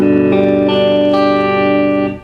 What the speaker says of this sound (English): when you strum all the notes it should sound like this